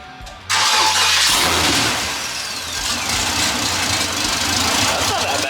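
An LS-swapped Mustang engine with long-tube headers cranks and catches, roaring up loudly before settling into a steady, rough idle close by.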